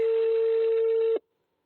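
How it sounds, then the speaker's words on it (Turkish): A steady electronic telephone ringing tone holds for about a second, then cuts off abruptly into silence. "Telefonu çalıyor."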